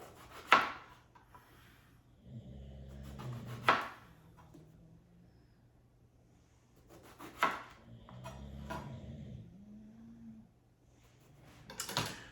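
A knife cuts eggplant into half-inch-thick slices on a wooden cutting board for eggplant Parmesan, giving a few separate close thuds and short scraping strokes with quiet pauses between them.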